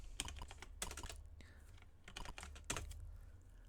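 Keys clacking on a computer keyboard while entering commands for an Atari 6502 assembly program, a few quick bursts of close, sharp taps with brief pauses between them.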